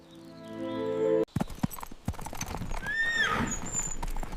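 A horse whinnies loudly up close, followed by hoof clops and rustling, then a second shrill neigh rises and fades over the shuffling.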